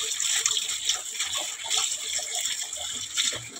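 Peeled vegetables for a gude lodeh vegetable stew are rinsed clean under running water, a steady bright splashing and gushing with small irregular bursts throughout, fairly close and with no talking.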